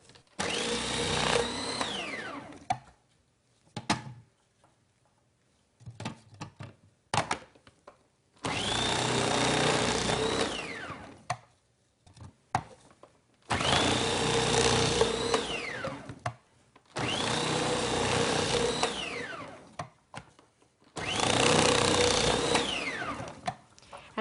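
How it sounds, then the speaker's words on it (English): A food processor fitted with a shredding blade shreds peeled apples in four loud motor bursts of several seconds each. The whine shifts in pitch as the apples feed through, and short clunks and quiet gaps fall between the runs. "So we're just going to shred the apple here in the food processor."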